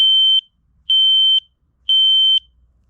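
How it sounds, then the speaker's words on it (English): A smoke detector sounding its smoke sensor test: three loud, steady high-pitched beeps of about half a second each, evenly spaced, with nothing else heard. "Testing the smoke sensor."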